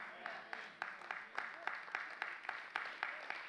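A church congregation claps together in a slow, steady unison rhythm, about three claps per second, moderately distant and fairly quiet, with no talk over it.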